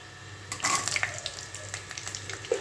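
Garlic slices frying in hot oil for the tempering of a bottle gourd and milk curry, giving a soft, steady sizzle with light crackles and a few sharper pops near the start.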